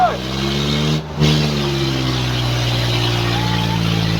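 Swaraj tractor engine revving hard during a tractor pulling contest: a loud, steady droning roar holds throughout with only a brief dip near the start.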